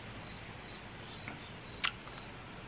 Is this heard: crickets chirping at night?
yes